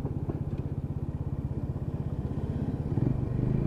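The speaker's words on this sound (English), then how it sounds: "make the engine work to turn over" A Lexmoto Ranger motorcycle engine runs steadily with a rapid, even throbbing pulse that grows slightly louder toward the end, close by with no voices.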